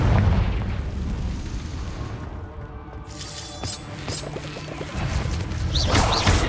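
A Confringo fire spell detonates in Hogwarts Legacy during San Bakar's Trial, a dense crashing boom over a rumbling game soundscape, followed by sharper cracking impacts near the end.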